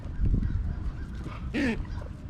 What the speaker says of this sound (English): There's all kinds of birds hanging out at this park.